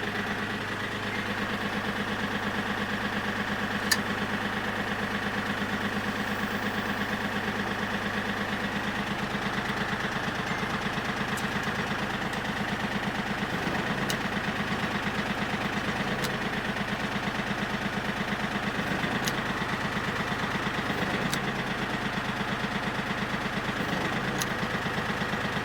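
Tractor engine idling steadily during a test of a VEVOR hydraulic top link, a constant low rumbling drone with even vibration throughout and a few faint ticks, no speech.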